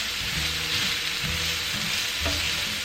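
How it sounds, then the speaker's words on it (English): Shredded carrots stir-fry in a pan after the beef is cooked, a loud, steady close sizzle with faint scraping, heard alone. "go ahead and place your shredded carrots. And we're going to stir fry these until they are softened."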